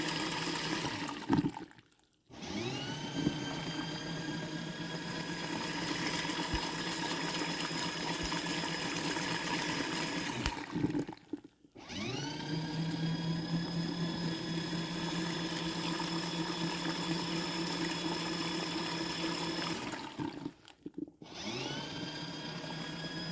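A folding portable mini washing machine churns its water in a steady, continuous whir with sloshing and a whining motor tone. It runs in long cycles broken by two brief pauses before starting up again, with no talk over it.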